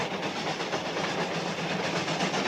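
A train rumbles along its rails in a steady, dense roar with faint clickety-clack from the wheels, continuous and fairly loud, with no one speaking.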